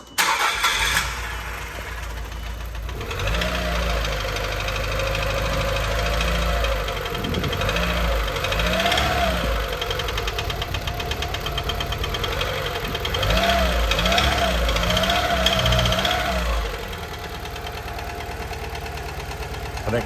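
Nissan Figaro engine idling with a rough, uneven running note, its pitch wavering in repeated surges and dips over a steady low rumble, heard close with no talk.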